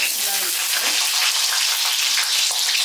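Shallots frying in hot oil in a wok (cheenachatti), a loud, steady crackling sizzle that continues evenly without pause.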